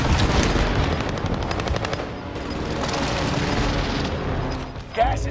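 Sustained automatic gunfire with distant booms in the Call of Duty video game on Rebirth Island, a dense rattling barrage that thins out, with voices faintly mixed in.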